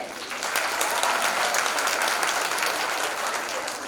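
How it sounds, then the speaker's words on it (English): Parents give a sustained round of applause after a school performance, a dense, steady wash of many hands clapping at once that fills the whole stretch at an even loudness. "Parents, a round of applause for them."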